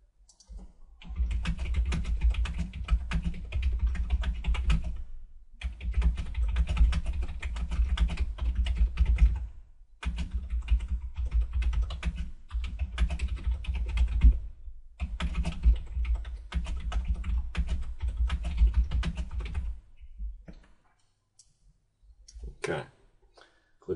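Fast, steady typing on a computer keyboard, close and clear, in three long bursts separated by short pauses, then a few soft clicks near the end; no talking.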